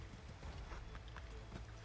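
Rapid hoofbeats of a galloping horse in the video game Assassin's Creed III, steady and close, over a low rumbling background throughout.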